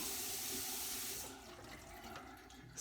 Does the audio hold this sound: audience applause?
no